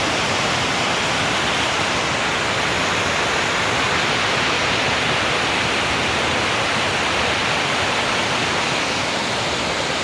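Loud, steady roar of rushing water pouring through the Belmont dam in General Trias, Cavite, a dense unbroken wash of noise with no voices.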